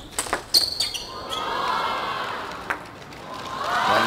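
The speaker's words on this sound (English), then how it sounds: "You could hear the crowd start to ooh and ah" Table tennis crowd at the Japan Open 2017 semifinal rising into a swelling ooh and aah during a rally, with sharp ball and paddle knocks early, then a sustained murmur building again at the end.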